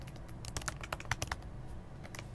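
Rapid keystrokes on a computer keyboard while entering code for a Next.js and Firebase app, an irregular cluster of crisp clicks bunched in the first half, then sparser taps, close and alone.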